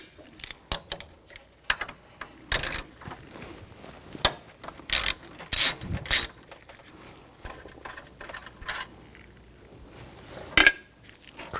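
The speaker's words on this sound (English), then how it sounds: "Take these bolts out." A ratchet driving a 6mm hex socket loosens the AC condenser bolts on a 2000-2006 BMW X5 3.0L L6, giving bursts of quick clicking pawl sounds in irregular spurts, with clanks of the tool between them.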